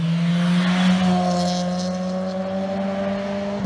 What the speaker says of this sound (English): He's going to do a little quick flyby past us